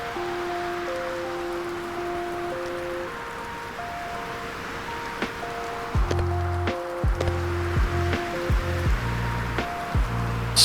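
Stormy weather at sea in the sailing game Sailwind, a steady wash of rain and wind noise running throughout, with sustained musical tones layered over it and heavier low rumbling surges in the second half.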